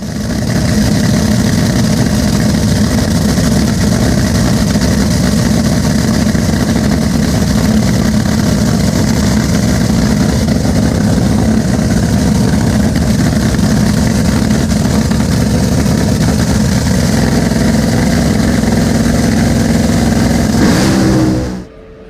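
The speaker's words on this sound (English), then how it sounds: "firing off Top Fuel qualifying" Top Fuel dragster engines fire up during drag racing qualifying, a loud, continuous, heavy roar with harsh crackling that holds steady for about twenty seconds before cutting off abruptly.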